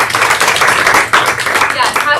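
Audience at a voice workshop claps in a brief, lively burst, with voices calling out over the applause for the full two seconds.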